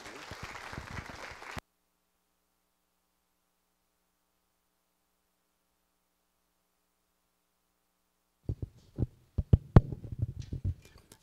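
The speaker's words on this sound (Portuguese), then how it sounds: "Uma salva de palmas novamente ao nosso palestrante." Audience applause for a speaker at a workplace safety event: a brief stretch of clapping cuts off into silence, then scattered, uneven claps return near the end.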